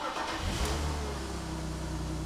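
A BMW E46 M3 engine starts up and settles into a steady, close idle with a low throbbing hum, briefly revving near the start before holding even.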